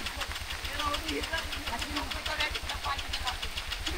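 A car engine idles steadily with a low, rhythmic knocking throb while reversing, voices talking over it throughout.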